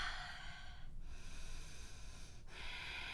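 Steady, breathy airflow during a yoga pyramid pose, with deep inhales and exhales cycling close and soft, with two brief pauses between breaths.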